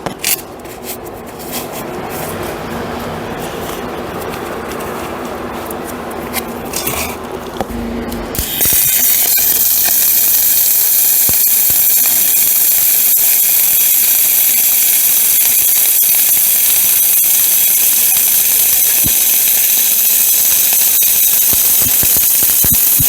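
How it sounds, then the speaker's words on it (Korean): CO2 MIG welding torch laying a bead, starting after a few seconds of quieter workshop noise with a loud, steady crackling hiss that runs continuously and close up to the end. "제가 이제 여기 용접을 한번 해볼게요. 그 CO2 용접의 비드는 어떻게 나오는지 보여드릴게요"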